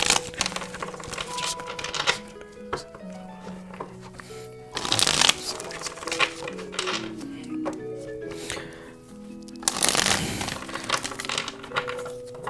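A card reader shuffling a deck of tarot cards. Two long riffle bursts stand out amid lighter card handling and soft taps, close up.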